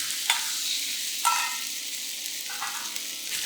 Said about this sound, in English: Fry the pork till it turns white and is a little charred on the outside.